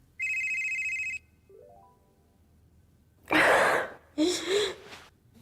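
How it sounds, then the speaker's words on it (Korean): A phone rings in a steady electronic tone for about a second, followed by a short rising chime, then two loud breathy bursts like gasps or sighs. "한 통의 전화가 걸려왔습니다."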